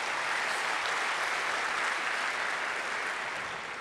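A room full of people applauds city public works staff at a public affairs address, a dense steady wash of clapping with no talk, fading slightly at the end.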